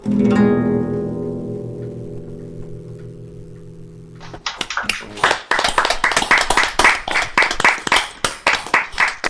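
A folk club audience breaks into applause as the last chord of a guitar song rings out and fades, the clapping coming in a dense, lively burst that starts near the middle and carries on to the end.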